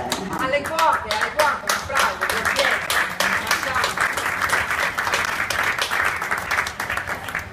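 An audience at a cookbook presentation claps in a lively, rhythmic round of applause, individual hand claps distinct and fairly close, with some voices mixed in beneath.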